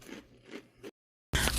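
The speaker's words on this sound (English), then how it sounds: "A crunch." Crunching bites into ranch-flavored chicken chips: a few close, crisp crunches, then a brief silence and a louder, sharper crunch at the end, with no talking.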